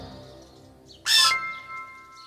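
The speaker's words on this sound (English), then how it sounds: "The bird chirped" A bird's chirp, one bright loud burst in the middle of the clip standing out from faint quiet background sounds.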